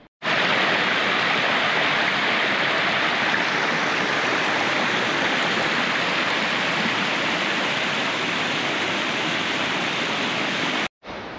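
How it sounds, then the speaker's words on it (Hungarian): Water pours over the top of a mountain waterfall on a high-alpine hike in the Queyras, a loud, steady, close roar that starts and stops abruptly, with no voices. "Itt van ennek a vízesésnek a teteje, amit onnan lentről lehetett látni."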